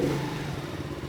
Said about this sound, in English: Even when you're starting it, you can tell that there's quite a lot of compression in that engine because of how slowly the starter motor goes round.